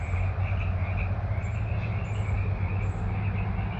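Frogs croak together in a thick, sustained chorus outdoors, a constant pulsing drone of many overlapping calls with faint higher chirps above, steady in level throughout and free of speech.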